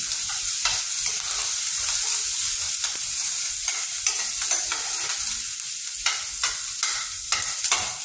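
Rice and lentils for Telangana-style pappu biyyam cook in a pan while a spoon stirs them in repeated scraping strokes over a continuous close sizzle, with no talking.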